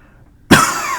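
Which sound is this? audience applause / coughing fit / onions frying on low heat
coughing fit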